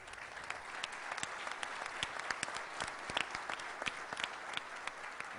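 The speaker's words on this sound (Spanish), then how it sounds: "Le damos un aplauso." Audience applause for a panel speaker at a conference panel; a steady round of clapping from a modest crowd, fairly soft and even throughout.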